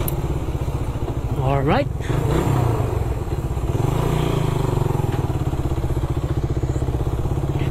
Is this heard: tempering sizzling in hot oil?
no